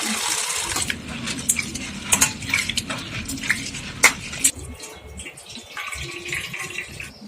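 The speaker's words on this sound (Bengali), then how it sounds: "এবারে এই ডালগুলোকে আমি জল দিয়ে ভালো মতো ধুয়ে নিব।" Chana dal lentils being rinsed in water in a bowl, with sloshing, grainy rustling and scattered clinks against the container, close and moderately loud, no voices.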